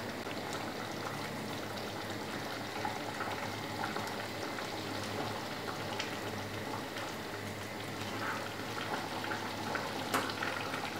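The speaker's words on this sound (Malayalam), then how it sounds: "കറി തിളച്ചിട്ടുണ്ട്." Mutton korma curry bubbling in a pot on a Kerala stove, a steady soft simmering hiss with scattered small pops and crackles throughout, faint and continuous with no voices.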